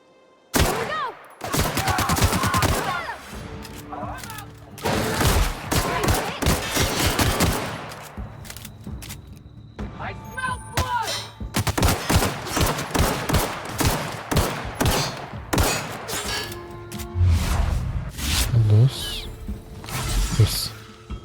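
Video game gunfire in The Outer Worlds, with repeated rapid bursts and volleys of shots, mechanical clanks and a few impacts, coming in clusters separated by brief lulls.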